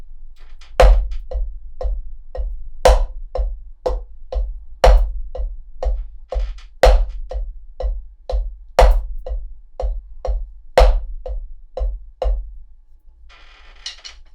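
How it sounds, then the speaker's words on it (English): Paradiddle rudiment played slowly with drumsticks, crisp evenly spaced strokes with a louder accented hit at the start of each grouping, repeating steadily and close up. "paradiddle is a great rudiment to start with."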